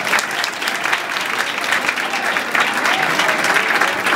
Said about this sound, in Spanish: pido un aplauso para ellos también.